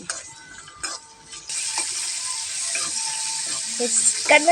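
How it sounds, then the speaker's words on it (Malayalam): Onions and tomatoes are sautéed in a hot pan for a bitter gourd roast. After a few quiet knocks, a bright, steady sizzle starts suddenly and continues, with faint stirring and a couple of utensil clinks near the end. "ശരിക്കും പോട്ടെ നമ്മളത് വഴറ്റണം"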